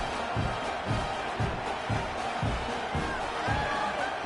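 A stadium crowd in a college football video game keeps up a continuous roar with a regular pulsing beat, like rhythmic chanting or drumming, at moderate level.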